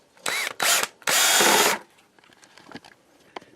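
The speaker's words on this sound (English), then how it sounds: "see how that one fits on my drill" A handheld power drill with a paint-mixing attachment whirs in three bursts, two short then one longer at full speed, followed by quieter clinks and handling noises.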